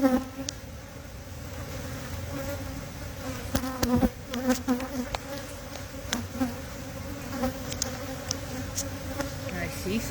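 Honey bees buzz steadily inside a hive, a dense continuous drone close by with sharper wingbeat flares rising and falling throughout, and faint speech briefly underneath.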